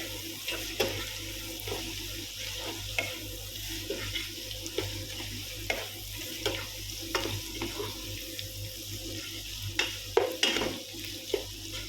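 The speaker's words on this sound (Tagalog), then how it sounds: "Tapos, palulutuin lang natin yung karne." Meat fries in a pan with soy sauce in a low, steady sizzle, with faint clinks and stirring scrapes scattered through it.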